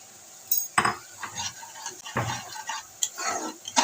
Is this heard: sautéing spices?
yes